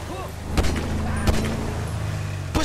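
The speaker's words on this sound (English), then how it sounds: "Shoot that gun, kid." Gunfire in Grand Theft Auto V: three sharp, loud shots spaced roughly a second apart cut through a steady low vehicle drone.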